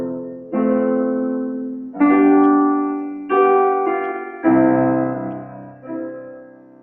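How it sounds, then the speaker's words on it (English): A slow piece of music played as a classroom example, five sustained chords struck at a gentle, evenly spaced pace, each ringing out and fading before the next, with no voices. "a slow piece of music might sound like this"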